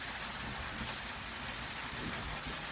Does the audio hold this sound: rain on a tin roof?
yes